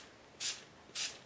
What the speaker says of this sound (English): I am going to add just a little bit of water with my Distress misting spray